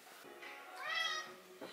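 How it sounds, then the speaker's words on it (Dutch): A cat meows in a drawn-out, rising and falling cry at close range, faint overall, with a soft bit of noise at the end. "Wie zit er zo te miauwen?"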